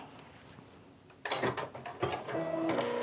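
After a second of near quiet, a sewing machine's automatic thread cutter whirs and clicks, a short burst of close mechanical noise.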